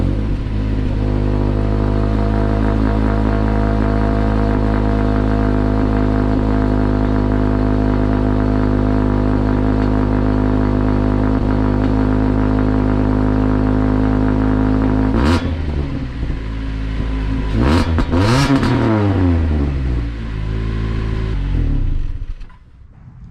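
Cold start of a Jeep Renegade's 2.4L Tigershark engine fitted with an MPx header: a steady, loud, droning idle lasting most of the clip, then a few sharp revs rising and falling near the end before it dies down.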